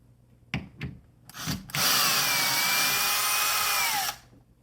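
A power drill drives a longer screw into a door hinge, a few short trigger bursts then a steady high whine for about two seconds before stopping, close and loud.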